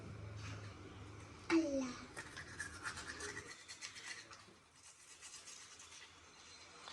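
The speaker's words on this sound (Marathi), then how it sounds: "ब्रश कर." A child brushes their teeth with a toothbrush, a soft, rapid scrubbing and scratching heard close up, with a child and an adult talking over it.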